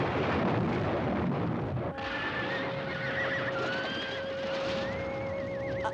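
A horse neighs with rising and wavering whinnies over a rumbling, stormy background, close and fairly loud.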